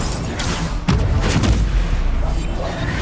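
An Incendio fire spell is cast in the video game Hogwarts Legacy, a sudden loud booming burst of flame that hits near the one-second mark and rumbles on heavily for about a second before easing into steady game ambience.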